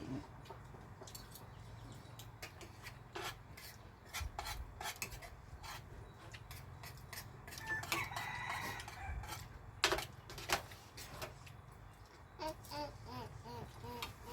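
A rooster crows and chickens cluck faintly in the background of a rural Thai lunch of bamboo shoot curry, mixed with clinking cutlery and dishes and scattered low talk.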